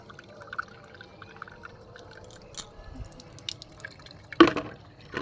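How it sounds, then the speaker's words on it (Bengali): Dishes being washed at a sink with a Surf detergent after puja, with water dripping and pouring in soft irregular splashes and a sharper clatter of utensils near the end, no one talking. "এই দেখো সব বাসন ধুচ্ছে জোনাকি।"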